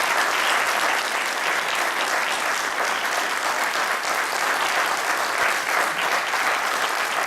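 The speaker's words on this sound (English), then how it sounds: "please join me now in congratulating them and applauding them" Steady, dense applause from a large audience at a state representative debate, continuous and loud throughout without a break.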